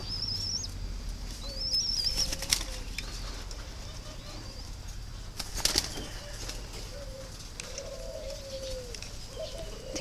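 Breeding turtle doves kept for sale, with soft low cooing repeated several times and brief bursts of wing flapping, plus a few high chirps, all fairly faint against a quiet background hum.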